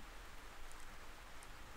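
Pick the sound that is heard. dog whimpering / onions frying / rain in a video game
rain in a video game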